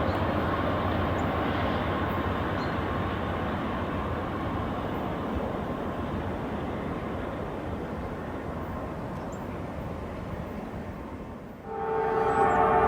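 Northbound Norfolk Southern freight train passing a Church Street grade crossing in Walton, a steady loud rumble of rolling cars throughout, with a crossing bell or horn tone rising at the end.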